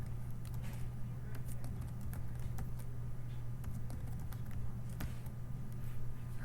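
Typing on a computer keyboard while text is entered, with light, irregular clicks over a steady low hum and faint background noise, fairly quiet throughout.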